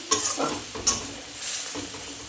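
A spice paste with poppy seeds for a prawn curry sizzles as it is sautéed in a pan, with a couple of sharp spatula scrapes over a soft, continuous fry.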